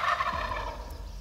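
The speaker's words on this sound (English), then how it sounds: "When turkeys are gobbling like that, they are very killable." Wild turkeys gobble in the Tennessee woods during a hunt. One short, loud gobble rings out clearly, with no talking over it.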